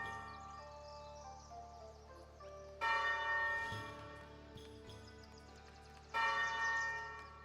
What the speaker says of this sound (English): you can see the bell, and you can hear it ding-dong from on high